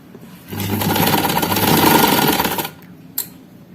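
A sewing machine stitches a kameez strip in one continuous run of about two seconds, a close, steady motor hum with rapid needle chatter, followed by a brief click.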